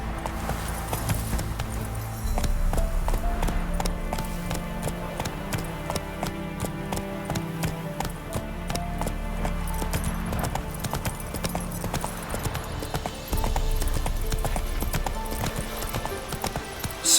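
A horse gallops in the video game The Witcher 3, rapid rhythmic hoof clip-clops thudding steadily and close over a low game ambience.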